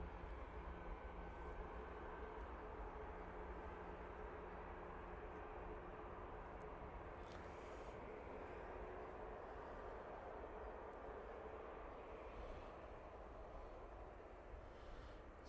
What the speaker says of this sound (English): First one over, Ryanair going off to Palma